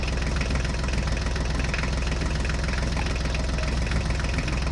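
Loud steady chugging of a new super mini tractor's engine running as it drives on, a close, even rumble throughout with no talk.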